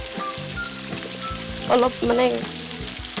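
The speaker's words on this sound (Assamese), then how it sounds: "প্ৰথমতে মই কেপচিকাম আৰু পিঁয়াজখিনি ভাজি লওঁ" Chunky pieces of capsicum and onion sizzle in a pan, lightly fried for chilli paneer in a home kitchen, with a steady crackling hiss under a voice.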